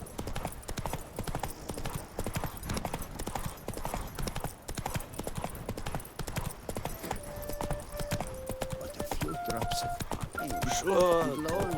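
Hooves of Geralt's horse Roach clip-clop steadily at a trot in The Witcher 3, a rhythmic stream of hoofbeats over game ambience, with a short burst of tonal game sounds near the end.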